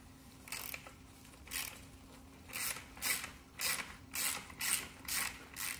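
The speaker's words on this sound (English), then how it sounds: "So we'll loosen the axle nut." Socket wrench with a 17 mm socket loosening the axle nut on an EVOLV City bicycle, a close, quiet rasping ratchet buzz repeated in about eight rhythmic strokes, growing steadier toward the end, with no speech.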